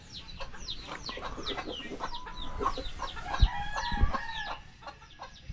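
Chickens cluck and a rooster crows at a rural yard in the Philippines, several birds calling over one another at moderate distance, with sharp clucks and a couple of louder crows standing out against steady background noise.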